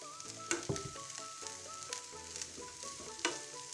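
Chana daal sizzling and frying in a hot pan while being stirred, with a steady crackle and occasional louder scrapes and clatters, over a bed of background music.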